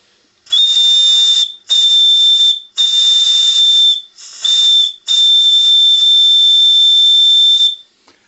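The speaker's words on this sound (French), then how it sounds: "le sifflet fonctionne parfaitement" A loud, shrill live-steam bell whistle sounds in five blasts of varying length, with a breathy hiss under the high tone.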